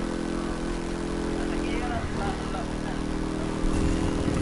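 A motorcycle engine in The Crew 2 racing game holds a steady high drone throughout, growing slightly louder near the end, with a voice talking over it.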